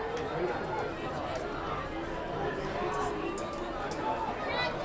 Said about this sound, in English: Pretty good sized crowd here tonight at Alumni Stadium.